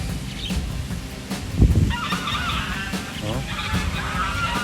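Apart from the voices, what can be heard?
geese honking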